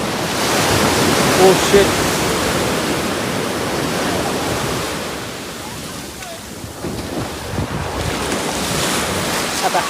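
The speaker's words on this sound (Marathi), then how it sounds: "अरे बापरे काय भयानक लाट आहे याला होती राव." Sea waves crash and surge at Ganapatipule beach, a loud, broad roar with heavy wind buffeting the microphone, swelling and easing over the span, with a brief voice exclamation.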